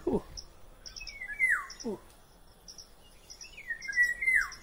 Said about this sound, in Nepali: यस्तो प्यालो चरा कराएको